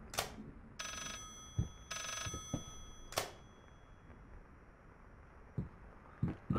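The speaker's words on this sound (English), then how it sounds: "Let's go answer this phone, shall we?" An old-style telephone bell rings in bursts in a dim horror game, three or four metallic trills separated by pauses, with soft footsteps and thumps in between, moderately quiet and close.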